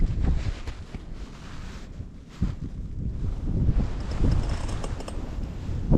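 Storm wind gusts buffeting an ice fishing spot, a continuous low roar with rising and falling surges rumbling against the microphone, steady throughout with no voices.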